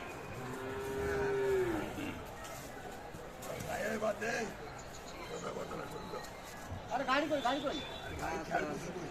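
A cow, one of the Friesian and crossbreed cattle at a livestock market in Aftabganj, gives a clear low moo at the start, followed by people chatting nearby.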